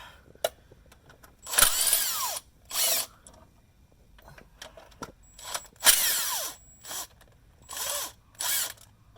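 A power drill works on the bolts of a Subaru TR690 CVT transmission strainer, with several short whirring bursts rising and falling in pitch, separated by pauses and faint clicks, close and alone.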